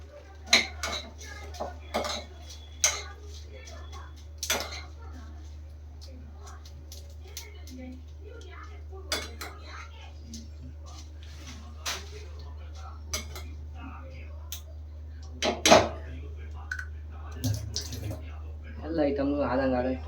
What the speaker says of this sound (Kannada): ಎಲ್ಲ ಐಟಮ್ನು ಆದಂಗೆ ತೊಳೆದಿಟ್ಬಿಡೋಣ.